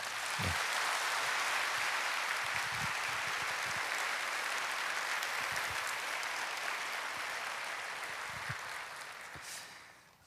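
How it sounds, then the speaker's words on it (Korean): A church congregation applauds during a Sunday worship service: steady, dense clapping that fills the room for about ten seconds at a fairly soft, distant level, then tapers off near the end. "여러분 크게 박수를 좀 해주실까요?"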